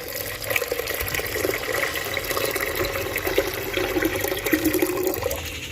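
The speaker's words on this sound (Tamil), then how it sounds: "நல்லா வடிகட்டி இந்த தண்ணியை மட்டும் இதில் சேர்த்துப்போம்" Strained tamarind water pours steadily into a pot for Tamil-style fish curry, a continuous close liquid splash and gurgle with no pauses and no talking.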